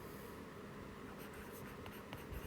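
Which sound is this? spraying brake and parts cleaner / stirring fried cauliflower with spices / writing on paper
writing on paper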